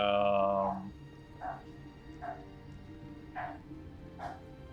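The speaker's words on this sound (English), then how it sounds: "maybe the dogs are barking" Dogs in the video game Baldur's Gate 3 let out several short barks and yips at fairly even intervals, moderately faint, after a brief tonal game sound at the start.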